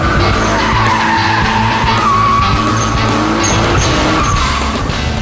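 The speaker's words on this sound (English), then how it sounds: "do you have the hots for burnout?" Car doing a burnout, a loud continuous tire squeal and skid over a rumbling engine, close and unbroken throughout.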